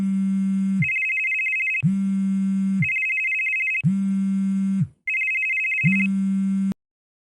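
An incoming call makes a telephone ring loudly and close by. It gives four regular two-tone electronic rings, each about a second long with short gaps, then stops abruptly, with no voices.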